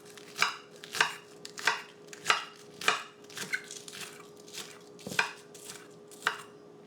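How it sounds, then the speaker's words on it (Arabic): A knife chops onions on a cutting board in a home kitchen, roughly a dozen crisp, close thuds in an uneven rhythm, each a sharp tap, with no talking. "كيف ما كتشوفوا البصل ديالي كنقطعو على هذا الشكل"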